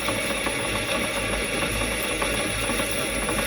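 A 1930s-era drill press boring into roughly half-inch steel plate gives a continuous dense mechanical grind with a low rumbling hum and faint rattling, steady and close throughout.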